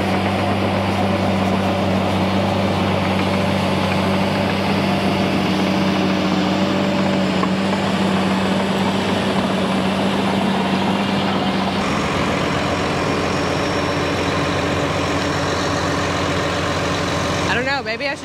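Bulldozer engine running steadily at a dirt work site, a loud continuous diesel rumble with a steady low drone that stays close throughout.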